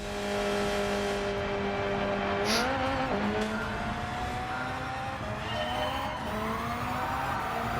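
Hyundai Elantra engine in Gran Turismo 7 drones steadily with a sustained tonal whine, rising briefly as it revs and shifts, with faint tire noise; continuous and close, no talk.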